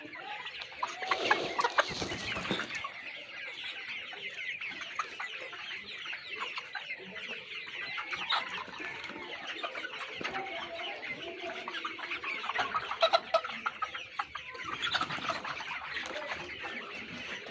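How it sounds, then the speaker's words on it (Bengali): Hungry Sonali chickens on a farm cluck and squawk continuously as a dense, close flock for the whole stretch, with sharper bursts of calls rising above the steady chatter. "এই দেখেন মুরগির কী অবস্থা, খাবারের জন্য"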